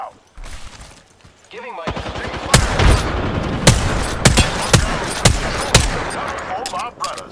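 Apex Legends frag grenade goes off in a loud, close burst, quickly followed by a series of sharp gunfire cracks in an irregular rhythm, with someone speaking briefly over the action.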